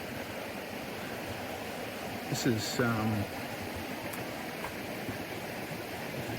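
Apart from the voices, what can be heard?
creek water flowing near a swimming spot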